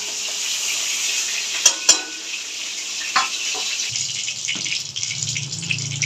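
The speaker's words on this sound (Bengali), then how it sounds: "এই তেলে আলুগুলোও ভেজে নেব।" Potatoes frying in hot oil, a continuous sizzle broken by a few sharp clicks of a utensil and stirring, with a low hum joining partway through and no talk.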